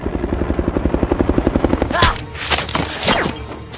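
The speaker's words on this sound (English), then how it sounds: "Tyler, chopper's inbound." Rapid thudding rotor chop from a helicopter, steady and loud, then sharp bursts and bangs cut in over it.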